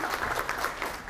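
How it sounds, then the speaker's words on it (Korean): An audience at a lecture applauds warmly, a short burst of steady, even clapping filling the room with no speech over it. "박수 한번 다시 한번 보내주세요."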